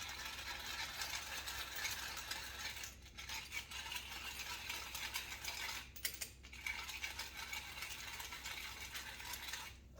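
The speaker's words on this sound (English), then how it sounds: "I'm going to grind some black pepper in there." Black pepper ground from a hand grinder into zucchini fritter mix, a steady close ratcheting crunch that runs almost continuously with a couple of brief pauses.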